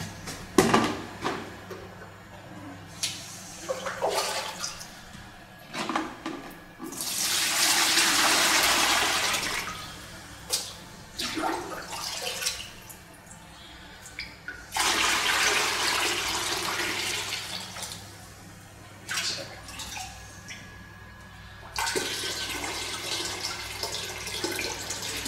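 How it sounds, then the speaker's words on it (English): Clean water is poured into a tub ready for mixing fine casting plaster for a panel moulding, arriving in three rushing bursts separated by quieter handling noises, fairly close and moderately loud. "I'm going to put some clean water in this tub"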